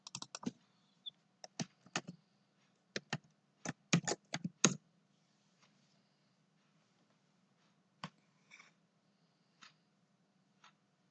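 Keys on a computer keyboard clack in a quick burst of close, crisp taps, then a few sparse single presses separated by quiet pauses.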